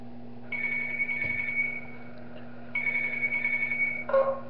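Phone call ringing in the horror video game Tubbyland, two long electronic ring bursts separated by a pause, over a steady low hum, with a brief clunk at the end.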